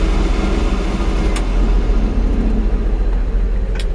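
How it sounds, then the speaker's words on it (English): Radiator fan on a 1964 Chevrolet C-10 pickup running with the engine, a steady low whooshing hum close to the microphone with a couple of faint clicks. "you can hear the fan turn on"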